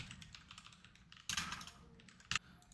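Fingers type on a computer keyboard to enter a word in an Excel spreadsheet: soft, quick key clicks throughout, with two louder clusters of presses, close and without talk.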